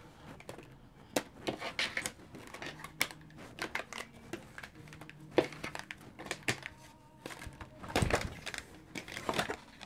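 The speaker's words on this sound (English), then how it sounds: "I'm gonna cut the cards too on that note." A deck of tarot cards being cut and shuffled by hand, with close, quiet clicks, riffles and soft slaps in irregular bursts, and a denser flurry near the end.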